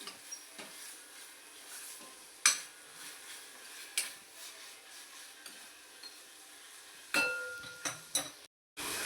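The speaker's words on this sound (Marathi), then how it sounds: "मीठ टाकल्यानंतर आपण इथे मिक्स करून घेऊया।" A spoon scrapes and clinks against a pan while dill greens (shepu bhaji) are stirred with salt, giving faint scattered knocks over a soft, quiet sizzle, with a few sharper metallic taps near the end.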